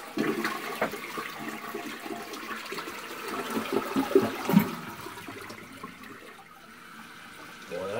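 A toilet flushes into a newly approved septic system in an earthbag home, a rushing swirl of water that gradually tapers into quieter refilling and trickling.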